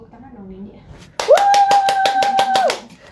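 At a live makeup tutorial, a quick burst of roughly ten close hand claps starts suddenly after soft talk, with a steady tone ringing over them.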